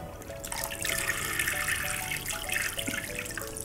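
Water sprinkling from a toy sieve onto a toy boat, trickling steadily, a soft splashing patter with faint tonal ringing underneath, close and fairly quiet.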